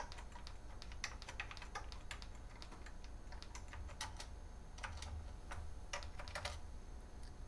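Keys clatter on an old MSX computer keyboard with a partly faulty layout, in uneven bursts of close clicks and taps with no talk, over a steady low hum.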